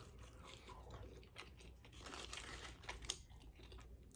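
Someone eating crunchy fries up close, with soft bites and chewing crunches that come in irregular bursts over quiet background, no talking.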